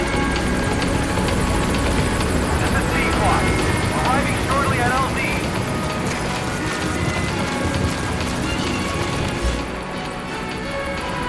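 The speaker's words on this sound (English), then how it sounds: "Get the helicopter here." In Metal Gear Solid V: The Phantom Pain, a helicopter arrives at the quarantine platform of Mother Base, its loud continuous rotor roar holding throughout, with game voices and effects mixed in.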